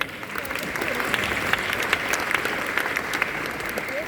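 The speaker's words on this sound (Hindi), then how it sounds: "1 मिनट के लिए आप खड़े रहेंगे तो उनके लिए तालियां बजाइए।" Lecture-hall audience applauding the Hindi translator at a talk on the Ramayana and Mahabharata, brisk and continuous clapping from a full room with a few sharper individual claps standing out.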